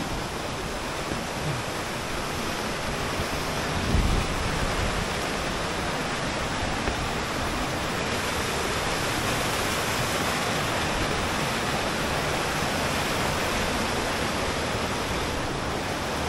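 Aber Falls waterfall in the mountains of North Wales, a steady, loud broadband roar of falling water that fills the whole stretch without pause, with only a brief thump partway through.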